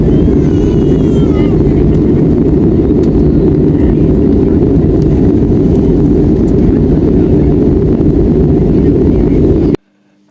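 Airplane cabin noise during the descent into Bombay: a loud, steady, low roar of engines and airflow that fills the cabin without a break, then cuts off abruptly near the end.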